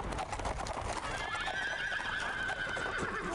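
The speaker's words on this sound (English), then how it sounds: "Sir, I hear horses coming down the road." A horse whinnies loudly for a couple of seconds in the World War II video game Brothers in Arms: Earned in Blood, over a dense, steady background rumble of noise.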